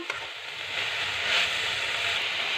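Long bean stir-fry (payar thoran) with curry leaves being stirred in a hot pan, a steady close sizzle and hiss with a soft scrape of the spoon.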